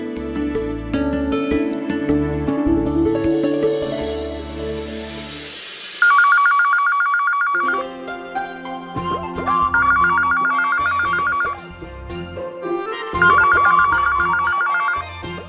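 A telephone bell rings in repeated bursts with short pauses between them, loud and close, over a background of music.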